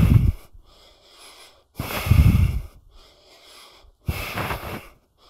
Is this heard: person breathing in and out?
yes